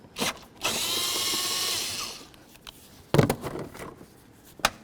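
A power tool whirs steadily for about a second and a half while loosening an 8mm hose clamp on a 2003–2007 GMC Envoy during throttle body replacement, followed by a few sharp metallic clicks and knocks.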